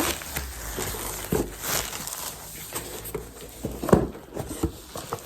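Packaging being torn open and unwrapped around boxed glass cups, with crinkly rustles and crushing bursts, a sharper crackle near the middle, close by and moderately loud, without speech.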